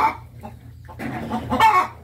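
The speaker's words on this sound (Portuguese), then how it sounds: "A galinha tá anunciando que botou um ovo." A farmyard hen cackles after laying an egg, with several loud, close clucks rising into a burst of excited calls near the end, heard alone.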